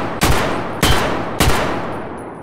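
Three booming Lapua rifle shots in Escape from Tarkov, fired at a steady pace roughly half a second apart, each a sharp loud crack with a long rolling tail, no voices over them.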